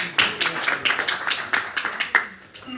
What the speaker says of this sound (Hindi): बहुत सी तालियां इम्तियाज गौहर साहब के लिए।